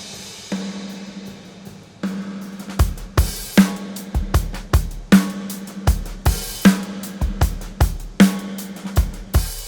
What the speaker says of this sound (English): So what I hear from a lot of people is reverb that sounds like this.